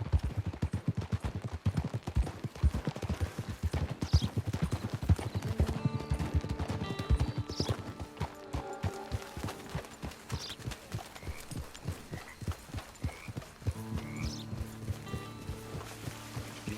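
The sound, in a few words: horse hooves in the video game Red Dead Redemption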